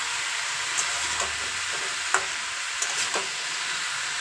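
Sliced cucumbers fry in a pan over low to medium heat with bay leaf and cumin, a steady soft sizzle and hiss with occasional scrapes of a spatula stirring them through.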